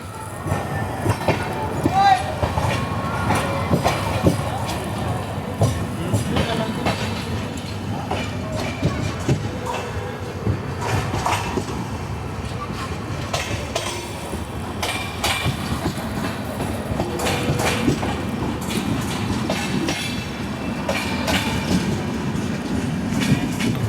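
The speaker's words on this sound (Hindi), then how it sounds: "20 मिनट के लंबे हॉल्ट के बाद हमारी ट्रेन निकल रही है परतूर से।" The 17630 Hazur Sahib Nanded Hadapsar Express pulls out of Partur station, heard from inside a coach as a continuous rumble with rhythmic wheel clatter on the rails, loud and steady throughout.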